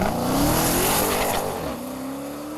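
The engine of a Dodge Challenger SRT Demon 170 muscle car roars loudly while revving up through rising pitch, with tire squeal or skidding mixed in, then settles to a lower, steady drone.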